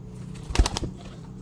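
Sialkoti flying pigeons in a loft, a short burst of wing flaps lasting under a second, close and fairly loud against a quiet background.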